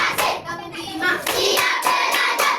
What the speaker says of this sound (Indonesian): Kita mulai tepuk 1, tepuk 2, tepuk 3, tepuk 4, tepuk 5